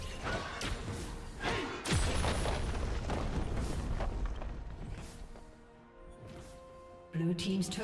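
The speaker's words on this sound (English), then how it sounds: "Blue team's turret has been destroyed." A turret is destroyed in League of Legends, a heavy booming crash over a busy, dense mix of game effects, followed by quieter clatter and a final thump.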